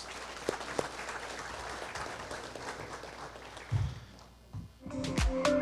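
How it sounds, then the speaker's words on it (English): Audience applause for sponsors at a parish community emergency preparedness event, a fairly faint, distant patter of clapping that fades out before a short burst of other sound near the end. "another round of applause for them, please"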